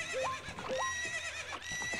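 Horse neighs twice in Zelda Ocarina of Time, each a rising whinny with bright harmonics, heard over a steady game backdrop of music and effects.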